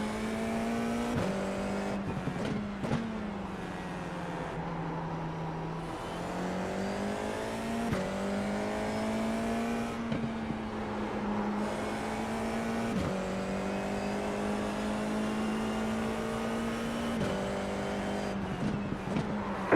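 Race car engine in the iRacing VR game, a steady high-pitched whine held loud and close throughout, with sharp gear-shift dips and rising revs repeating every few seconds and brief tyre noise.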